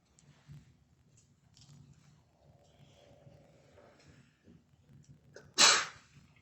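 A single sharp sneeze bursts out near the end of a courtroom trial session after several seconds of quiet shuffling and faint background murmur.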